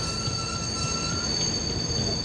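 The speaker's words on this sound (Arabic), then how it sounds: "توقف القطار بطريقة مفاجئة ولم يسبق لي أن أحسست بكبح فرامل قوية لهذه الدرجة." A train brakes hard on arrival at Itami station, giving a steady high metallic wheel squeal over a dense rumbling roar that stays even and loud throughout.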